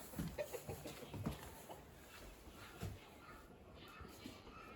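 Hens cluck faintly in scattered bursts near an unfinished henhouse, with a soft background hiss and no clear talk.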